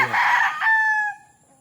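A Boston Roundhead rooster crows once, loud and close, a full rising call that trails off into a fading tail, with nothing else heard around it.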